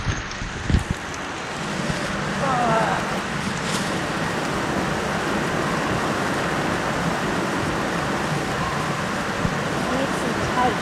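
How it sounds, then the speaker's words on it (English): Heavy rain pours onto a camper van roof around an open hole at a water inlet, a steady dense hiss and patter close to the microphone that carries on throughout with no break. "it's just started pissing down with rain when I've got a gaping hole"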